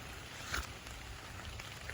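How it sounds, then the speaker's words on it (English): Rain falls outdoors under maple trees as a steady, soft hiss that holds the same level throughout, with no voices. "it's raining. harder than I want it to be"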